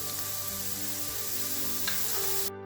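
Sliced onion and curry leaves sautéing in a pan give a soft, continuous sizzle at moderate distance, steady throughout and ending abruptly, with no voices.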